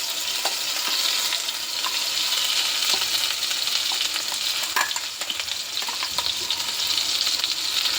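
Onion, tomato and cashew paste frying on low heat in a pan for a paneer dish, a steady close sizzle with occasional stirring scrapes throughout.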